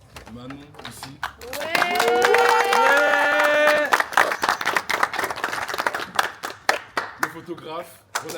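A crowd claps and cheers for a team member at a house farewell gathering, sharp hand claps under loud voices, a shout or sung cheer rising in the middle, the clapping continuing in bursts after.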